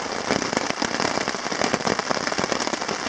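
Rain showers patter densely and loudly on a tarp at a Boundary Waters campsite, a close crackling drumming that goes on without a break.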